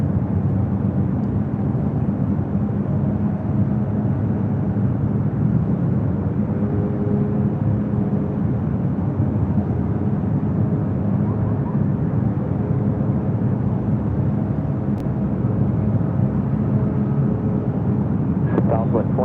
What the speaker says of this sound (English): Next takeoff here on the north side is Spirit Airlines Flight 184 heading to Cleveland, Ohio in an A320.